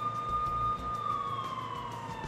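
An emergency vehicle siren in the city-building game SimCity 4 sounds a steady electronic tone that slowly glides downward, fairly faint over a low background hum.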